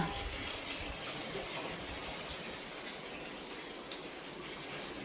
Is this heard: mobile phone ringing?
no